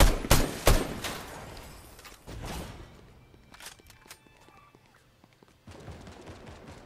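Bursts of gunfire in the Fortnite video game: several sharp, loud shots cluster at the start, then sparser, quieter pops follow, with another volley near the end.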